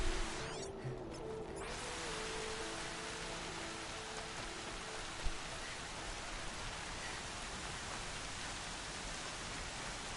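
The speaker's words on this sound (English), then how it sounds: "It's raining sideways." Heavy, wind-driven sideways rain in the video game Horizon Zero Dawn, a steady dense hiss that holds for the full length, with a brief faint tick midway and no talking.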